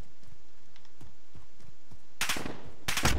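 Automatic gunfire in Call of Duty: Modern Warfare on the Azhir Cave map, light clicks and faint shots giving way to two loud, close bursts of rapid fire near the end.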